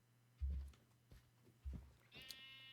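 Minecraft sheep in a pen give one short bleat near the end, after a few dull thumps and taps of movement, all moderately quiet and close.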